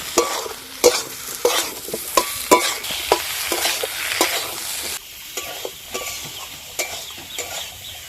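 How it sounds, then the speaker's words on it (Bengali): Fried potatoes and tomato sauté with spices in a pan for a Bengali fish curry, with a steady sizzle broken by frequent scraping and knocking spoon strokes close by, quieter in the final seconds, and no speech. "আলুগুলো মশলার সঙ্গে ভালো করে কষে নেব।"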